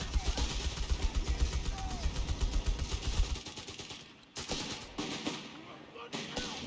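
Rapid machine gun bursts from a Company of Heroes 3 battle rattle off in a steady, dense stream for about three seconds, then give way to scattered shots and clatter, with a caster talking over the action.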